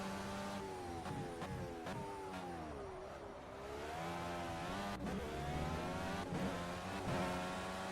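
An IndyCar engine at Laguna Seca accelerates hard out of the final turn, a loud, close, continuous rising whine with rapid gear-change dips and climbing harmonics, alone without talk.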